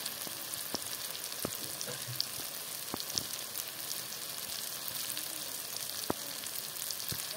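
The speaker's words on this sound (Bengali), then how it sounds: "এখন মশলাগুলোকে কষিয়ে নেব।" Spices sizzling in a pan while being fried down for chicken curry, a steady close hiss with occasional sharp clicks and pops of stirring, no talk.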